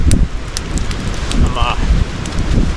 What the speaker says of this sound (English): It's a little windy up here.